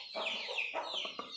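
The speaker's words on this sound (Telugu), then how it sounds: "పుంజు చూడండి" A rooster of a local fighting breed clucks in a few close, clear bursts with no talk, the calls rising and falling across the short stretch.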